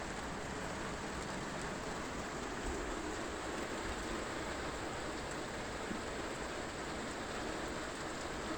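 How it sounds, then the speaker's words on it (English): Steady, even rain noise throughout, a constant hiss with no distinct drops or pauses. "It's raining over here today."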